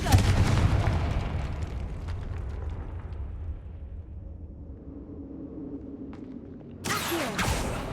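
In the Hogwarts Legacy video game, a Confringo fire spell bursts with a heavy booming blast that rolls off into a fading rumble, and a second sharp burst follows near the end.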